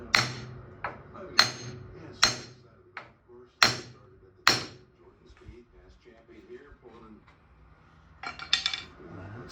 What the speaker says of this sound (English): I'm gonna try the small hammer first, and if it doesn't work, then I'll use the big hammer